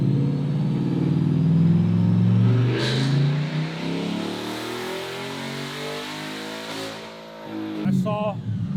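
A 2020 Corvette with a loud modified exhaust accelerates hard, its engine note rising steadily and dominating the scene, with people talking over it and a brief pause near the end.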